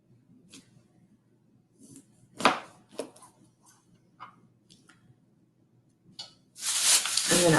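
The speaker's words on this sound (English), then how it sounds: "I've got a lime. We'll cut that." A kitchen knife slices a lime on a board, making several sharp close chops and taps spaced unevenly, followed by a loud rushing burst at the end.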